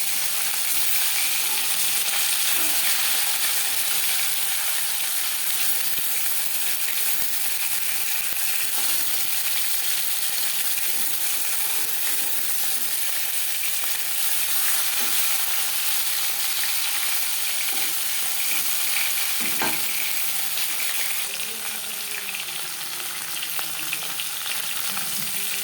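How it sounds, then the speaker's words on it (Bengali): Pieces of aar fish and a fish head fry in oil in a pan, a continuous close, loud sizzle with faint stirring clatter and no talking. "মাছ ও মাছের মাথা একটা সাইড ভাজা হয়ে গেলে"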